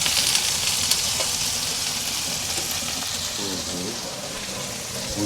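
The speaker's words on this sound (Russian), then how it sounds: "лакс-то он быстро жарится" Salmon sizzles steadily in a hot pan with tomatoes, a soft constant crackle with faint clinks of utensils and a few murmured words.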